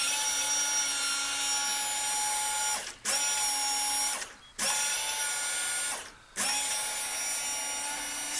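An electric windshield washer pump on a 1956 Cadillac Sedan DeVille, fed from a milk jug of water, gives a steady high-pitched whirring hum in three close, loud runs, each cut off by a brief pause.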